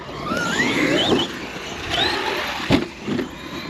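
A small motor-driven model with a helical crown gearbox whose teeth are cut in reverse, revving up as throttle is applied: a rising, whining gear-and-motor tone climbs in pitch twice, then a short sharp knock, close and fairly loud.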